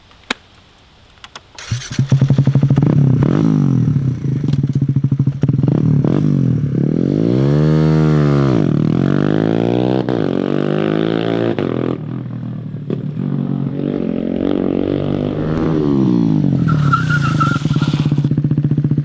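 Kawasaki Z125 Pro mini bike fitted with a Bazzaz quick shifter starts up, then revs and accelerates loud and close, its pitch sweeping up and dropping sharply at each quick upshift, several times in a row.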